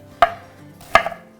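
Two sharp, close knife chops through vegetables for Tuscan grilled vegetables, cut into bite-sized pieces on a board, spaced under a second apart with quiet between and no talking.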